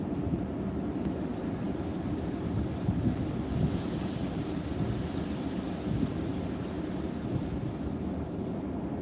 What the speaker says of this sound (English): Nice gust going by there.